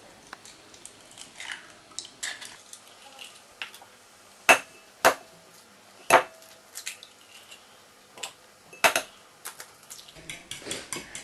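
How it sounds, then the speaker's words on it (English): Eggs cracked into a bowl and whisked for carbonara, with sharp clinks of shell and utensil against the bowl and softer stirring taps scattered irregularly, close and fairly quiet. "So give that a good whisk until all the yolks and the whites are mixed in together"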